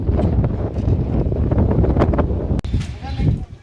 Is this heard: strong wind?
yes